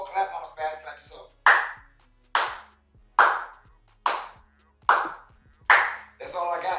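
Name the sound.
medium-speed clapping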